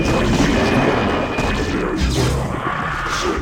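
Photon cannons fire in StarCraft during the Impending Doom campaign mission, as a dense stretch of crashing, booming energy blasts that runs on continuously and loudly with no voices.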